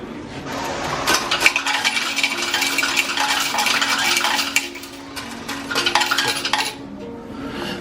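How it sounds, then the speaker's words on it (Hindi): Coins of change clattering out of a bus ticket machine in Edinburgh, Scotland: a busy metallic jingle and clinking tumbling for several seconds, close and fairly loud, then trailing off. "अब इसके अंदर मशीन है ये और चेंज आ जाएगा"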